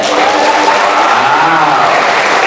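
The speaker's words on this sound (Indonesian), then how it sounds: "tepuk tangan yang meriah dulu" An audience at a Palembang Islamic boarding school event bursts into dense, loud applause, continuous clapping from a large crowd throughout with faint voices mixed in.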